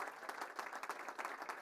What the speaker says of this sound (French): Merci Julien, on peut l'applaudir